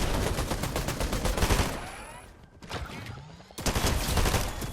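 Rapid bursts of gunfire from a guard and a turret in Fortnite, loud dense volleys dropping away briefly mid-clip before resuming hard.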